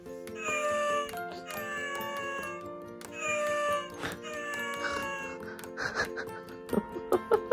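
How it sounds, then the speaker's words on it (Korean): A series of bright, tinny cat meows played back from a toy sound book, one after another, followed by a few short clicks near the end. "야옹이 사운드 시작"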